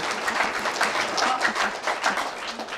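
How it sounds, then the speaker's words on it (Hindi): An audience at a Hindi poetry gathering (kavi sammelan) claps throughout in a dense, steady round of applause at moderate loudness. "एक ताली बजवाना चाहता हूँ।"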